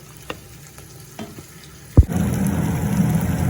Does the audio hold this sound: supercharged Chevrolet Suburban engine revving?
no